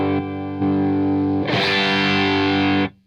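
An electric guitar played through a Mostortion distortion pedal, sustained chords with a thick, saturated, buzzing tone that swell louder midway and then stop.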